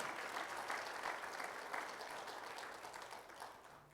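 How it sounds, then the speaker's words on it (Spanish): A church congregation applauding, a dense, steady wash of many hands clapping together, sustained and fairly loud, slowly tapering toward the end. "¿Puede darle un aplauso al Señor por eso?"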